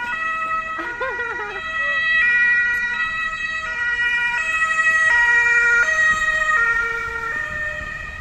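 An emergency siren wails in a repeating two-tone pattern, sounding somewhat distant, while a voice briefly speaks near the start.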